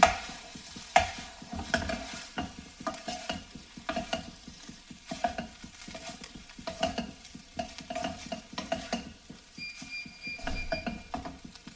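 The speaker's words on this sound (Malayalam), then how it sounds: "ഇത് നന്നായിട്ടൊന്ന് മിക്സ് ചെയ്യണം." A spoon stirs rice mixed with vinegar and black pepper in a pan, giving steady repeated scraping and clinking strokes with a soft sizzle underneath, close and moderately loud with no talking.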